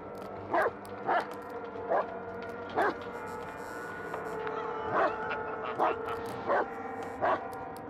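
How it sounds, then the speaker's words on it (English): A dog barks repeatedly in the horror video game Blair Witch, sharp spaced yaps over a low ambient game drone, moderately near, about eight barks without speech. "Oh, my dog is barking at something."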